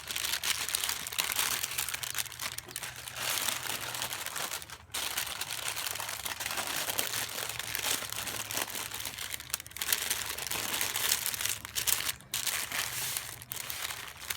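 Continuous crinkling and crumpling of stiff parchment paper being folded into a cone, close up, with a few brief pauses and no talking.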